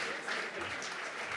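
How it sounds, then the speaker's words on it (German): A brief burst of audience clapping at a live comedy game show, dense and moderate in volume, lasting just over a second. "Bitte einen großen Applaus für Felix und Dennis"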